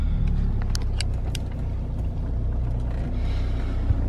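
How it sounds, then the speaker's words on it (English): A BMW E60 engine idles steadily after being started, a constant low rumble filling the car's interior with a few faint clicks and ticks on top and no speech. "we'll start the engine up just so we don't kill the battery"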